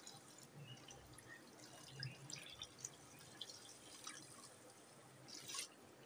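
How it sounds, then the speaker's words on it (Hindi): Water is poured into a pot of cooked meat being made into haleem, a soft, steady splashing and trickling that runs quietly through the whole stretch with no talk. "इसमें पानी डाल दूँगी।"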